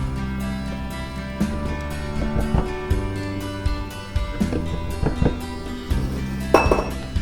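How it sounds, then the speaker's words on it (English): A spoon scoops whipped cream into a separate dish, producing repeated light clinks and taps of utensil on dishware over a steady tonal background. "Now we take a little bit of the whipped cream out, put it in an extra dish"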